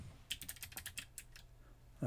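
A computer keyboard typed on in a quick burst of close, crisp key clicks, then a pause before a voice begins at the end.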